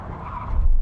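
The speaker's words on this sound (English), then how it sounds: "Full emergency stop from 70 miles an hour when we hit the line across the runway." Mercedes-AMG G63 tyres skidding on a runway during an emergency stop from 70 mph, a short loud rumbling screech under engine and road noise.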